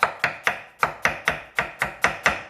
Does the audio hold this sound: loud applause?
no